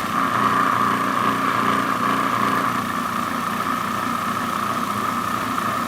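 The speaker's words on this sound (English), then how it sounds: "You need to listen carefully because the motor sounds are going to change, and that's when you know your dough is ready." Stand mixer motor churning pie dough for an apple rhubarb pie, a steady close mechanical hum with a strong tonal whine that holds constant throughout, no talking over it.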